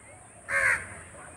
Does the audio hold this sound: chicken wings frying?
no